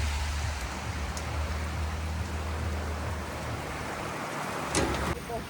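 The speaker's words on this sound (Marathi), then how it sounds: "असला भयंकर पाऊस चालला आहे" Heavy cyclone rain in Sangvi, Tuljapur, pours down steadily in a dense, loud hiss with a low rumble underneath, briefly joined by a few sharper splashes near the end.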